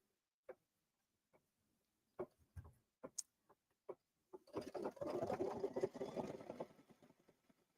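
A sewing machine stitches down a quilt block piece, starting with a few isolated soft clicks and taps, then settling into a close, steady mechanical whirring and rapid ticking for the last few seconds.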